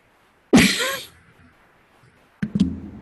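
A person sneezes loudly and abruptly during an online interview call, a close, explosive burst trailing off over half a second, followed by another shorter, sharp burst about two seconds later.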